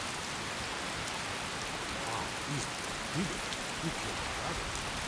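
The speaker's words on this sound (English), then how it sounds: "oh my god, it's raining" Steady rain in Skyrim Special Edition, a video game, patters across the whole clip, a dense even hiss of drops with a few faint low thumps underneath.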